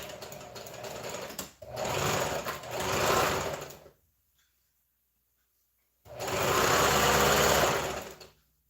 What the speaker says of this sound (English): This machine is getting loud, so what it means is that I need to oil it.